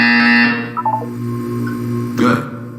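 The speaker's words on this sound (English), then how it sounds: "You will hear a buzzer." A loud, harsh buzzer from the video game Portal 2 blares for about half a second, then a few short soft beeps follow over a low steady hum, ending with another brief rough burst.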